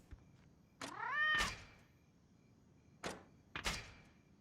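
A pet cat gives a couple of clear, close meows, with a few soft thumps around them, in an otherwise quiet room.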